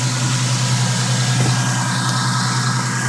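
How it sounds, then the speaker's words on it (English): Steady low rumble of a car engine idling close by, even and continuous throughout. "That's the engine."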